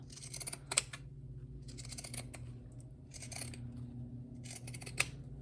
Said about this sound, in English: pinking shears will reduce the chance that it'll ravel